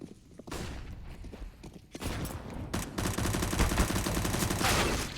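Rapid bursts of gunfire in a Counter-Strike pro match, including a Desert Eagle pistol, crackling loud and dense throughout with overlapping shots and a thud near the start.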